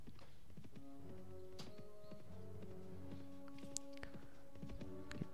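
Horse riding hoofbeats in Mount and Blade Warband, a steady clip-clop of hooves trotting close by over a tonal background music bed, with no talking.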